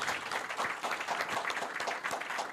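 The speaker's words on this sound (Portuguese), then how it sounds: "pedir uma salva de palmas para o Luiz Antônio Pagô" Steady, fairly faint applause from an audience at the opening of a formal event, with dense clapping heard throughout, somewhat distant.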